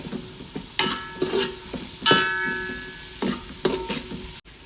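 Onions frying until crisp over a high flame, with turmeric added, for a spicy mutton masala: bursts of sizzling and stirring come in several pulses, close and moderately loud, with no talk.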